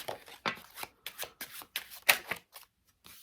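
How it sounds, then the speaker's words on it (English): Several quick bursts of riffling playing cards, crisp fluttering rattles with brief pauses between, close by and fairly quiet. "I'd ask them then to give them a little shuffle."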